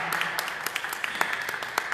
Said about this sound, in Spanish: Entonces, un aplauso, venga.